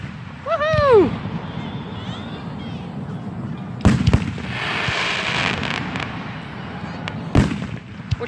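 Fourth of July fireworks bursting outdoors: a whistling rocket rises, followed by two sharp, loud booms a few seconds apart and crackling in between, with voices chatting in the background.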